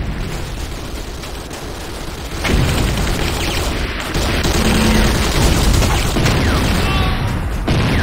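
Structures blowing up amid battle in the shooter game Renegade C&C: loud, continuous booming and rattling gunfire, with a heavier surge partway through and sustained rumbling blasts to the end.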